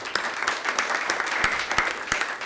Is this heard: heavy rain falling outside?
no